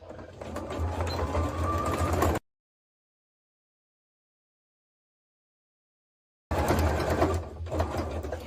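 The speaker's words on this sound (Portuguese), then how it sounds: "vou pra máquina de costura. Com a distância de um pezinho de máquina, eu vou começar a costurar aqui com o retrocesso" A domestic sewing machine stitches terry-cloth fabric with backstitching, a steady close mechanical whir that stops abruptly for several seconds of silence and then resumes.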